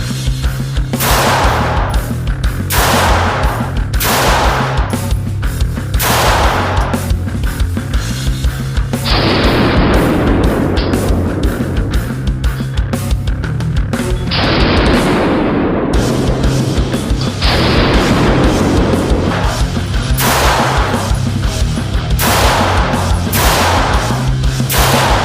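Glock 48 slimline pistol shots, single sharp reports fired one at a time with uneven pauses, plus a few longer, louder blasts, loud and close.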